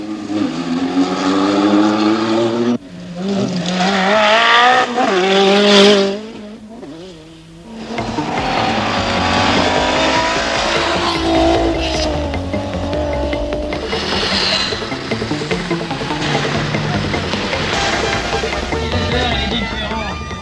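A rally car driven hard on a French championship rally stage, its engine revving up and down in loud rising and falling sweeps with bursts of tire squeal, close and continuous for about twenty seconds.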